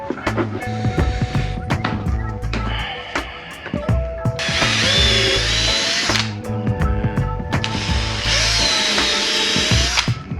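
A power drill with an 8.5mm bit whirs in bursts while installing a motorcycle tank bag on a KTM Duke 790, revving up and down with high-pitched whines between brief pauses, close by and loud.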